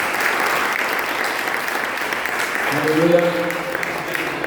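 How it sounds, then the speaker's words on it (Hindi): A church congregation claps loudly during a worship service, a dense steady wash of applause throughout, with a voice calling out over it near the end. "जोरदार ताली यीशु के लिए बजाएं।"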